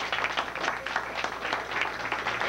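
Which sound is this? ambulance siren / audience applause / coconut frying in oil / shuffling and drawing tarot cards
audience applause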